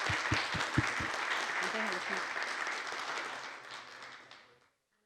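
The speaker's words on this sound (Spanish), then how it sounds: "les pido un aplauso para nuestros panelistas" A conference audience applauds the panelists of an intellectual property panel with a dense, steady wash of clapping. A few louder claps stand out early, and the applause tapers off and stops after about four seconds.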